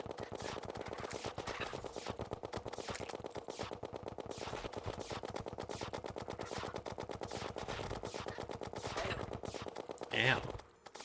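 Rapid automatic gunfire in the video game Terraria, a dense, steady stream of synthetic shots firing in fast rhythm for the whole stretch, ending with a brief different impact sound near the end.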